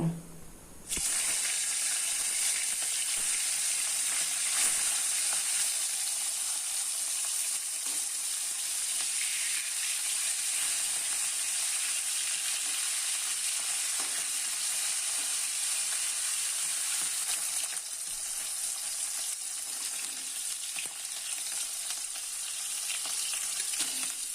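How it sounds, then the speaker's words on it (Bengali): Pomfret fish fry in hot oil in a pan with a loud, continuous close-up sizzle that stays even and dense throughout, with no voices. "এবার এই গরম তেলের মধ্যে মাছগুলো দিয়ে আমি মাছগুলো ভেজে নেব"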